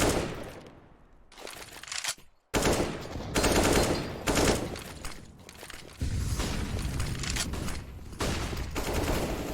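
Rapid automatic gunfire bursts in a Counter-Strike match on the Nuke map, loud and dense with sharp bangs and brief gaps, plus occasional impact clatter.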